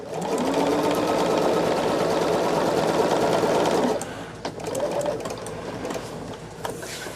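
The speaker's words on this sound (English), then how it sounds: "we are sewing this all on that 1/4 of an inch" Sewing machine running steadily as it stitches fabric at a quarter-inch seam, a loud continuous whirring hum for about four seconds before it stops, followed by quieter handling sounds of the fabric.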